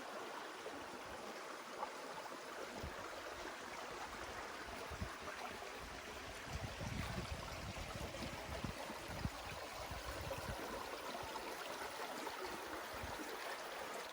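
A creek leading to Lower Dam Lake in the Haliburton Highlands flows steadily with a constant rushing, babbling wash of water over rocks, fairly faint and unbroken throughout.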